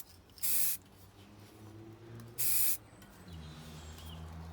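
An aerosol can spraying a light first coat of paint on a BMX bike part during a restoration, with two short, loud, close hissing bursts separated by a pause over a low background hum.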